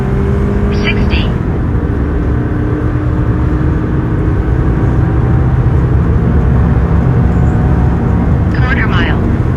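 2005 Dodge Ram 1500 Hemi pickup, short bed and standard cab, accelerating down a quarter mile, a loud steady engine roar heard from inside the cab, with a person talking over it.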